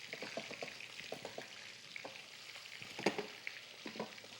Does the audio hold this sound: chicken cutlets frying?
yes